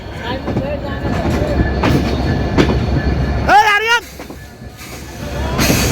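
The Rupshi Bangla Express with Chinese CRRC coaches pulls out, heard from on board as a loud, steady rumble with rhythmic wheel clatter and a sharp burst of squealing wheels, while people talk nearby.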